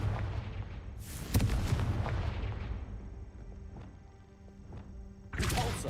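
A Confringo fire spell blasts in the video game Hogwarts Legacy, a deep booming impact that rumbles and fades over a few seconds, followed by another heavy burst near the end.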